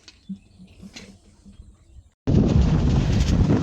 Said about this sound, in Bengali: এখানে যে কি পরিমাণ বাতাস